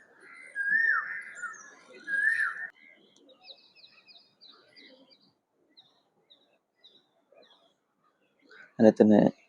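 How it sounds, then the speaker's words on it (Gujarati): Bright bird calls and whistled chirps, including a koel, ring out in short bursts over a quiet outdoor morning, with a few sparse tweets between and a sharper burst near the end. "પક્ષીઓનો અવાજ અને કોયલ પણ ક્યારનું બોલે છે."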